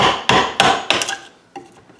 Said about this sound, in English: when you hammer it out, it just pops out now